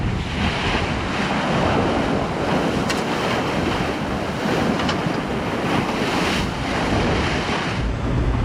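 Strong wind gusting around 25-30 knots on a sailboat crossing the open Atlantic between Les Sables and the Azores, a loud, continuous roar of rushing waves and wind buffeting the microphone, with no voices.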